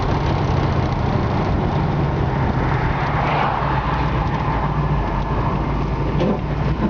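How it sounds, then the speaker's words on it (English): Engine of a 1968 Camaro SS convertible running, a steady low rumbling drone with a faint rise partway through, loud and close throughout with no talking. "the engine runs great"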